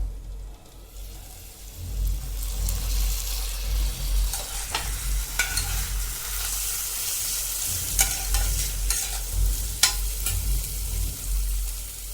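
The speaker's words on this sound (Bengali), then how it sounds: "ভালো করে একটু ভেজে নেব।" Samosa filling frying in a pan, a steady close sizzle with scraping stirs and light clinks of a spoon against the pan, continuing with no talk.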